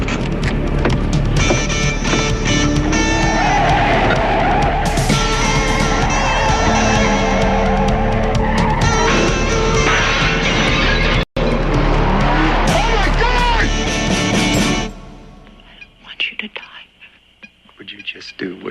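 A car with failed brakes speeds loudly with a roaring engine and squealing, skidding tires for a long stretch, then cuts off abruptly to quieter scattered noise; voices occasionally surface under the din.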